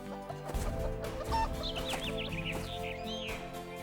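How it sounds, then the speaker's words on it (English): A hen clucks in a run of short, animated calls over light background music in a children's animated story, close and clear. "went out to feed the hen"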